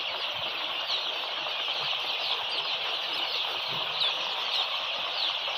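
Golden Misri chicks on a rooftop farm scatter in fright from a crow, a continuous close rush of fluttering wings mixed with high cheeping and faint clucks.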